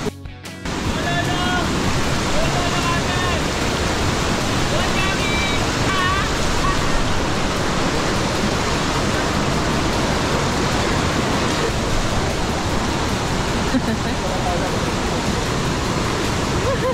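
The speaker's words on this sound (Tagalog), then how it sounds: "Lakas ang ragasa" Strong river water rushes in a dense, unbroken roar, loud and close, during a Baler, Aurora ride. It stays steady the whole time, with no clear voices.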